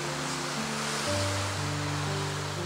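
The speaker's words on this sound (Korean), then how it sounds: "해안에는 부딪히는 파도 소리와 하얀 포말이 가득하고" Waves crash continuously against the rocky coast of Marado island, a steady full roar of surf with sustained musical tones layered over it.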